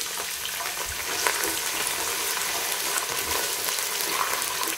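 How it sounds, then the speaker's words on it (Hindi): Onions dropped into hot oil in a cooking pot for vegetable pulao, a steady bright sizzle and crackle of frying running evenly throughout with no talk. "अब हम इसमें डालेंगे प्याज।"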